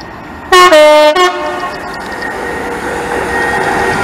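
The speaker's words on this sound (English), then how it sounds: "And now ready to pass through will be the special service from Crewe Heritage side." A heritage special train from Crewe Heritage Centre passes through a station, sounding a loud, close two-tone horn blast before a continuing rumble of wheels and engine fades into steady rail noise.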